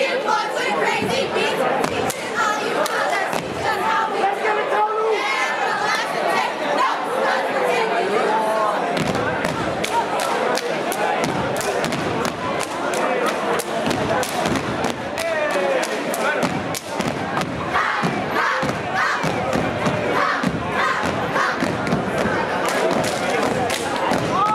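A high school step team stomps and claps hard rhythmic beats on a gym floor during a basketball game, chanting in unison while the crowd murmurs and cheers around them.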